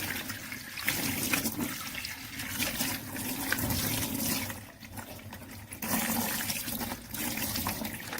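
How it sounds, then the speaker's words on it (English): Running water rinses out the removable plastic dust box of an MS101 robot vacuum, a steady close splashing and gushing stream with brief dips, with no talking. "Then simply rinse with water."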